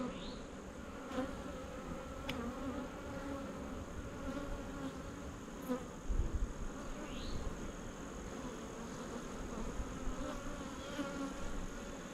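Honeybees hum in a dense, continuous buzz at an opened hive after being bumped and agitated, with individual bees droning close past against the steady swarm.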